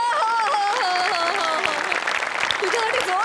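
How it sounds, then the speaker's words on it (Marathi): Audience applause at a Marathi comedy show, steady clapping under a continuous speaking voice with sung or drawn-out tones riding over it. "तुझ्यासाठी जोरदार टाळ्या"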